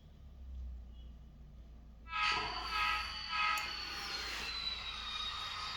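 Train sound effects play from iTrains model railway control software, starting after a quiet moment with a rising locomotive sound and a couple of horn-like tones that hold steady to the end.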